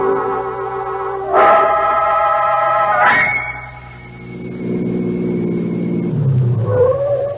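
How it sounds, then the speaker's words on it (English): A car in an old-time radio mystery drama drives along, its engine note rising and shifting as it slows and pulls off the highway, with a steady loud rumble and a brief higher tone near the end. "I'll pull in here. Trees will cover the car in case anybody happens to be out late on the highway."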